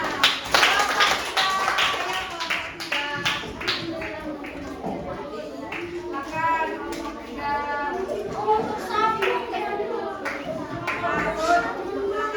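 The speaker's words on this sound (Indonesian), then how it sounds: "Mari tepuk tangan." A group of third-grade children in an Indonesian primary classroom claps hands together after a group presentation, a run of loose rhythmic claps mixed with busy children's chatter and voices throughout.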